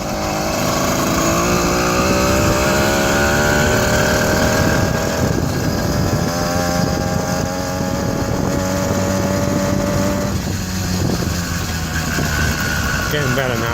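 A cold 80cc two-stroke engine on a motorized beach cruiser bicycle drones continuously and loudly up close, rough and bogging without clearing, with wind noise over it.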